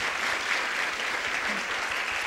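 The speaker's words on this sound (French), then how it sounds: "Donc on peut les applaudir très très très très fort." A conference audience applauds the organizers, a dense and even wash of clapping that holds at the same level throughout.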